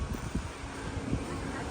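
Wind blowing at a campsite, a faint, steady rushing with soft gusty buffeting against the microphone.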